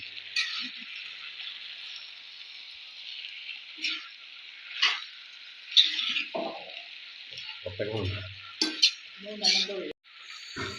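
Ivy gourd stir-fry with cooked chickpeas and salt is mixed in a pan over a steady soft frying hiss, broken by irregular spoon scrapes and clinks, while someone talks throughout.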